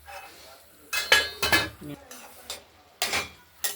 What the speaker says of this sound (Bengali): লাউটা আরেকবার ঢাকনা খুলে নেড়ে দিচ্ছি।